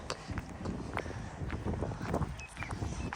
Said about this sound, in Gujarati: મસ્ત ઠંડો પવન આવે છે